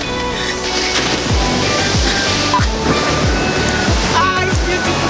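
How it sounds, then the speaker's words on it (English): Loud surf pounds nearby, waves breaking one after another in a steady rhythm over a constant wash of rushing water. "You have waves making so much noise behind me"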